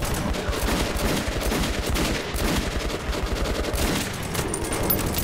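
Sustained automatic gunfire from the video game Metro 2033 Redux, a dense, continuous burst of rapid shots filling the whole stretch at steady loudness with no talk over it.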